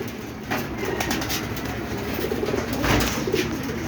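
Several pigeons coo in low, rolling calls, close by and fairly quiet against a steady background hiss.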